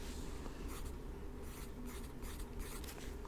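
Pen scratching steadily across paper as a medical questionnaire is filled out, a soft continuous writing texture with brief strokes, close and quiet, with no talk over it.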